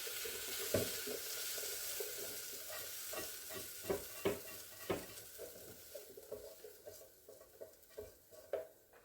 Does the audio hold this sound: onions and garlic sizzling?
yes